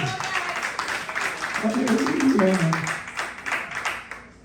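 A church congregation applauds in a steady, moderately loud patter of clapping that swells in the middle, mixed with voices calling out.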